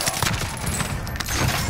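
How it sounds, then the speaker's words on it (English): Gunfire in Call of Duty: Modern Warfare: a short, dense burst of rapid automatic shots crackling close and loud, with no talk. "They're shooting me."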